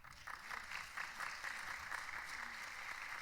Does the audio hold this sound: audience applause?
yes